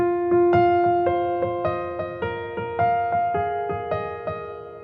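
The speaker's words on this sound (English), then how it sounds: "So instead of playing it like this with always 2 notes" A solo piano plays a melody in two-note form, clear and close, with evenly spaced struck notes ringing and decaying in a slow, steady rhythm.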